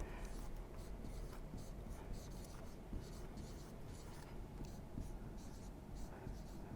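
Marker or chalk writing on a board in a classroom-style lesson, giving a steady scratchy stroking texture with short rhythmic bursts over a constant low background hum.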